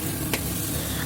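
Onions and ginger-garlic paste frying in oil for mutton khichda, a steady close sizzle with one brief stirring tap.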